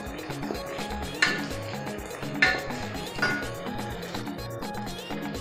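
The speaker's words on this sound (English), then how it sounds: "so my stew is dry. So I'm just going to stir on that." Dry egusi stew being stirred in a pot, with a few distinct clinks of a spoon against the metal pot spaced about a second apart, plus quieter scraping and rustling between them, close by.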